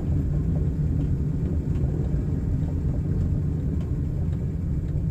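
A car cruising in second gear on a road before a tight turn gives off a dense, steady low engine and road rumble, even in level for the whole stretch, with no one talking.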